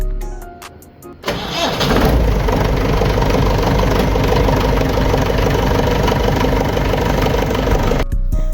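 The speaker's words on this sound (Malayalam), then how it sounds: "നമുക്ക് ഇനി ഇവനെ ഒന്ന് സ്റ്റാർട്ട് ചെയ്ത് നോക്കാം." A Mahindra Jeep engine cranks over with clicks at first, then catches and settles into a loud, steady close-up idle that runs on before cutting off abruptly.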